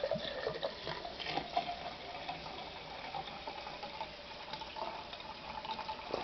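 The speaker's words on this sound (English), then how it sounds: "you're supposed to pour in the Smirnoff first" Smirnoff Ice poured from a small bottle into a glass, a continuous gentle liquid pour with faint fizzing splashes, close and fairly quiet, with no talk.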